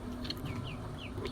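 Chickens on a small home farm cluck softly in a few short calls over a low background hum, faint and somewhat distant.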